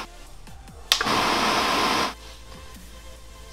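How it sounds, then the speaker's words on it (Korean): A Fieldpiece 5CMF vacuum pump for air conditioner installation starts with a click and roars with a loud, harsh hiss for about a second before shutting off, with faint handling clicks around it. "진공 펌프 소리예요."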